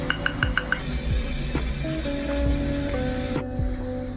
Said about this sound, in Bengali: প্রথমে উষ্ণ গরম জলে দুধ পাউডারটাকে ভালো করে গুলে নিতে হবে